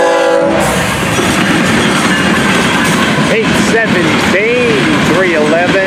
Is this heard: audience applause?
no